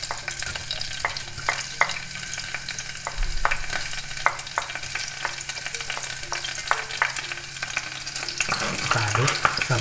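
Onions sizzling in hot oil in a pan, a loud steady frying hiss broken by repeated scraping stirs of a utensil against the pan and a low rumble near the end.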